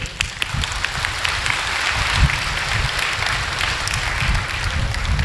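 Steady, dense clapping from a large audience at a Kabir satsang gathering, sustained and even throughout without pause.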